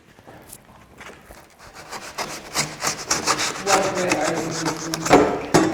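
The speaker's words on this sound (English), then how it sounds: "So I'll use this saw, but the back end of it, not the serrated part." The blunt back edge of a saw scrapes across wood in a wood window glazing and painting workshop, giving a rough, rhythmic rasping that grows louder and faster, each stroke close and gritty.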